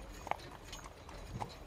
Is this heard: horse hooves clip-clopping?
yes